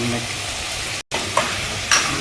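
Ground spices fry in oil in a pan for a chicken kosa with a loud, steady sizzle. A brief gap breaks it partway, then two sharper scrapes of stirring follow. No voice is heard.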